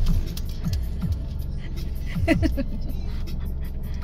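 Car engine and road rumble from a vehicle being driven slowly during a driving practice lesson in South Korea, a steady low drone with a few faint clicks and an instructor's voice talking over it.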